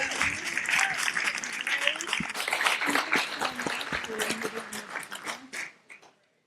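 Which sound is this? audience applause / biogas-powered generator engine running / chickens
audience applause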